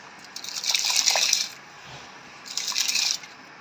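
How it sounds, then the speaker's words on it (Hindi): Basmati rice poured into a pot of water at a rolling boil, giving two soft hissing, splashing bursts a second or so long with a quiet pause between them, close up with no talking. "पानी को अच्छा सा बॉयल आ चुका है। अब इसमें चावल ऐड करेंगे।"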